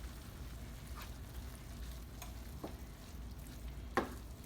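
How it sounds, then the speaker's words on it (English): Callaloo amaranth greens are stirred in a pot, giving a soft, faint bubbling simmer with a few light scrapes and clicks of the spoon and no talk. "I'm going to stir it."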